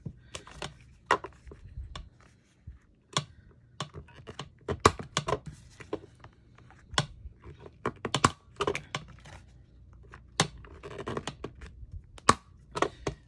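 Irregular series of sharp clicks and snaps from an electronic cutting machine cutting paper tags, close and fairly quiet, in short bursts.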